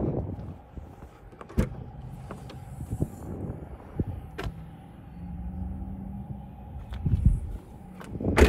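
Power windows on a 2023 Jeep Compass Limited whir up and down in a few short motor runs, close and moderately quiet, punctuated by soft clicks and thumps inside the cabin.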